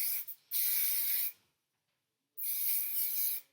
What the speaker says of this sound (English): And I just spray that on both sides of that section.